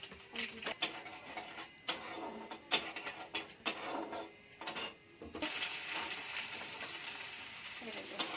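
Panch phoron, a five-spice seed mix, fries in a pan for a white vegetable curry: first faint clattering stirs, then a steadier, soft sizzle that fills the later part.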